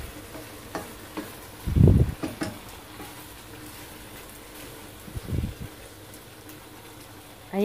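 Beef and green beans stir-frying in a pan give a steady soft sizzle, broken by a couple of louder bursts of stirring and clattering.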